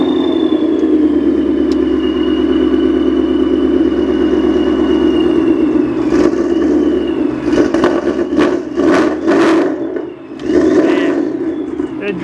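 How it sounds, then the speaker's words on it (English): A supercharged Ford Mustang GT, a wrecked car that still runs and drives, rumbles with a steady loud engine and exhaust drone, rising and dipping as it revs near the end, while people talk over it. "The exhaust is pretty loud too."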